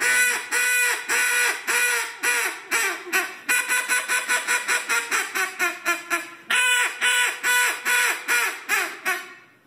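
High ball call blown on a mallard duck call at an indoor duck calling seminar: a long run of loud, evenly spaced quacks, starting strong, quickening into shorter notes and tapering, then a fresh strong burst near the end.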